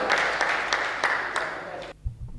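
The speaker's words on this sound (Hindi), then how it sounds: "जोरदार तालियां राजेंद्र जैन के।" An audience applauds for Rajendra Jain at a Hindi comedy poetry gathering, a steady burst of clapping lasting about two seconds before cutting off abruptly into quiet.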